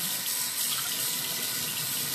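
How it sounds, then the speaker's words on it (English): Warm water runs from a tap while a MaxiMist Evolution TNT tattoo gun is cleaned, a steady close hiss and splash with no break. "I'm going to go ahead and get some warm water and put it through here."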